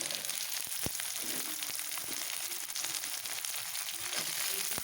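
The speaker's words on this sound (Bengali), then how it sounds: "একটু হালকা ফ্রাই করে নেব।" Beans with chopped onion lightly frying in a pan, with a continuous close sizzle and a few sharp clicks of a utensil stirring against the pan.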